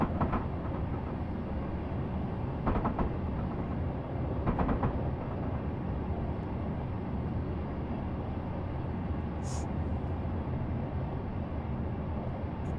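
A simulated train runs along the line toward Lymington Pier in a train simulator, a steady low rumble with a few faint clickety-clack beats early on, continuous and fairly quiet.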